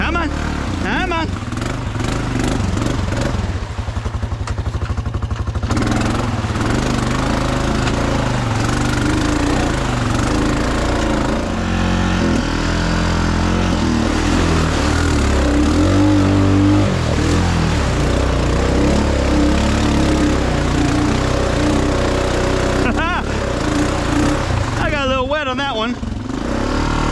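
Honda Foreman 500 ATV engine revving hard while stuck in mud, a loud, continuous, close engine drone that rises and falls with throttle, with a person talking over it.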